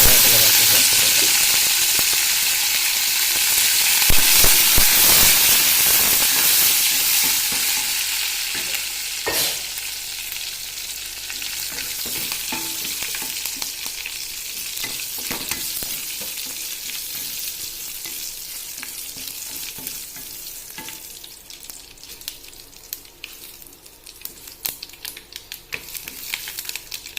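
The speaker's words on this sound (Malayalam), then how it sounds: "ഇതിലേക്ക് കുറച്ച് കൂടി കറിവേപ്പില വെച്ച് ചേർത്ത് കൊടുക്കാം." Curry leaves tempering in hot oil burst into a loud, close sizzle and spatter that gradually settles into a softer crackling hiss with scattered pops.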